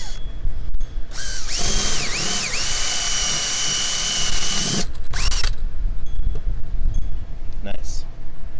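A power drill bores a drainage hole in a plant pot for succulent cuttings, whining loudly for a few seconds with pitch dips as the bit bites, then stopping, followed by shorter bursts and quiet handling.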